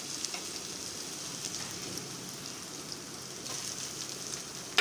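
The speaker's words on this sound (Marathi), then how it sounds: "कांदासुद्धा थोडासा लालसर होईपर्यंत छानसा थोडा परतून घ्यायचा आहे." Finely chopped onion fries in oil in a kadai with crushed ginger, garlic and cumin, giving a steady, close sizzling hiss that carries on evenly throughout.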